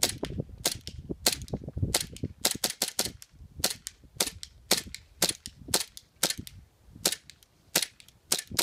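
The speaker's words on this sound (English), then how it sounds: "here's a shooting test for the gas blowback Sword Cutlass" A gas blowback M9 Sword Cutlass airsoft pistol firing dozens of sharp, close, snapping shots, some in quick pairs and clusters and others spaced apart, with faint gas hiss between them.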